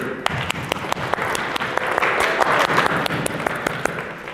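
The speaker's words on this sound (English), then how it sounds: "Can we have a huge round of applause, please?" An audience at a 2024 datathon kick-off event breaks into a sustained round of applause, with sharp individual claps standing out from the steady wash of the crowd.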